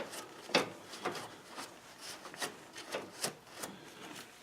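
Rag or brush scrubbing a lawn tractor's steering spur and rack gear, a series of quiet, close rubbing and scraping strokes repeating roughly every half second, with no talking.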